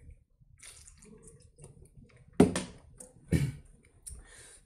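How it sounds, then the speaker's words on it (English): Someone drinks water indoors in a few gulps and swallows, with two louder sips standing out among faint handling noises. "let me drink some water."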